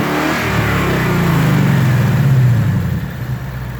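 A Ford Mustang Bullitt's 5.0 V8 engine revs up with a deep throaty roar, climbs and holds, then eases off and fades toward the end.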